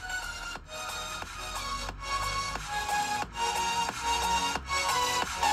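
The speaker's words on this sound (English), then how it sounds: "So that's the sound of the laptop." Lenovo LOQ 15IRH8 laptop speakers playing music at full volume, a bright tonal melody with rhythmic beats and short gaps, fairly thin in the low end, heard close up with no talking.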